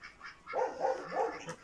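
Several dogs bark in a rural village in the evening, three clear barks in a row at middle distance, with quieter noises before them.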